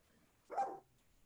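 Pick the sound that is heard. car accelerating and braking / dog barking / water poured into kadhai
dog barking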